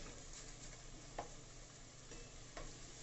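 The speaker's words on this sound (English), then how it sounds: "So now I'm going to just stir fry the beef, give it that nice texture." Beef strips stir-fried for pepper steak, a steady close sizzle with faint stirring scrapes and a couple of brief clacks, no talking.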